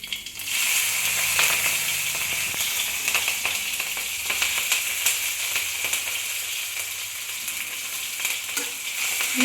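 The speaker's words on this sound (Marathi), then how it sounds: "मिरची पण छान तडतडली" Green chillies fry and crackle in hot oil with mustard and cumin seeds for kanda poha, a loud, continuous sizzle laced with quick popping crackles, close up and steady throughout.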